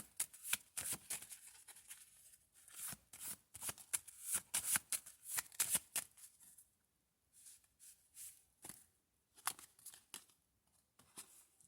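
Tarot cards riffle and slap together in quick shuffling bursts, crisp and close, pausing briefly before a few more shuffles, with no talking.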